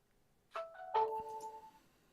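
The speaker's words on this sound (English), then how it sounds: "No, that was my phone." A mobile phone sounds a short two-note electronic chime that rings out briefly against a quiet room.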